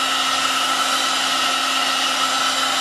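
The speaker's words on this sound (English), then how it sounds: "Usually it's just a couple seconds with the heat gun gets it there" Heat gun blowing hot air to harden a leather finish gives a loud, steady whooshing drone with a constant motor hum that holds unbroken throughout, with no voices.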